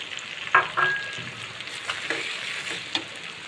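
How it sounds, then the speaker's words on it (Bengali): A pot of water with sugar, about half a kilo to a litre, is stirred over medium-low heat for a sweet pickle syrup, producing a few close spoon scrapes and swishes over a low background hiss. "তো আমার জলটা একটু নাড়াচাড়া করে দিচ্ছি।"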